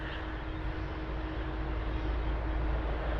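An Air Serbia Airbus A320 taxiing at London Heathrow, a steady, fairly loud jet-engine whine and rumble holding constant throughout with no talk.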